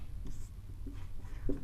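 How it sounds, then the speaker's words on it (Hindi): Chalk or marker writing on a board during a geometry lesson, a faint scratchy stroking sound heard close and quiet under soft room noise. "यहाँ पे हम लोग लिखेंगे"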